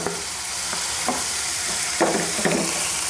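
Crushed ginger and garlic fry in a pan, a loud, constant sizzle with intermittent scraping stir strokes and small pops, with no voices.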